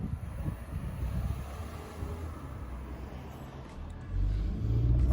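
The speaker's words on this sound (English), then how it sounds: "here we are driving this 2020 Mazda CX-5 GT non-turbo" A 2020 Mazda CX-5 GT with the non-turbo engine on the move, giving a steady low road and engine rumble with some wind noise that swells louder near the end.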